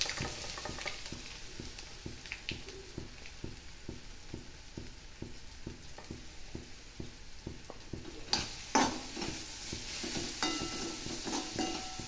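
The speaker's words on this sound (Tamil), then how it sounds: "கொட்டி கொஞ்சம் வதக்கிக்கலாம்" Cluster beans and lentils sautéing in a pan, with regular rhythmic stirring strokes over a soft sizzle, then a louder burst of frying near the end, close with no talk.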